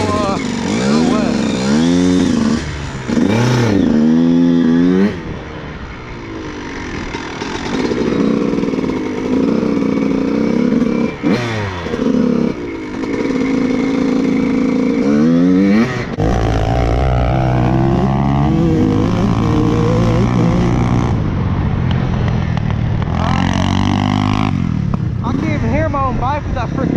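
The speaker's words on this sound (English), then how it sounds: "Bike with that freaking loud White Brothers exhaust. This thing's loud as heck." Loud two-stroke dirt bike, a CR125 with a loud White Brothers exhaust, revving and riding on a wet backyard dirt track, engine pitch rising and falling through gear changes, with a person talking over it.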